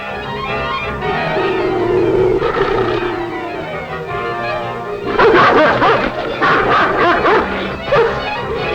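A dog barks repeatedly in a 1941 film soundtrack, loud and rough over dense background noise, with a burst of rapid barking in the second half.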